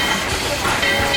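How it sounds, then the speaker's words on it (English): The Dollywood amusement park train rumbles across a bridge overhead, a steady hiss and rolling noise heard from a path below amid outdoor background sound. "There goes the train right up there"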